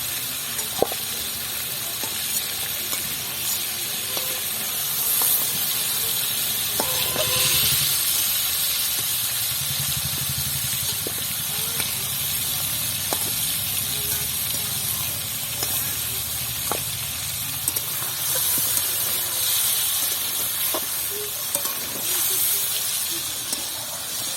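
Lightly fried chicken pieces lifted out of sizzling oil for a chicken curry, with a steady hiss and crackle running throughout and a few clinks and scrapes, while a voice talks over it.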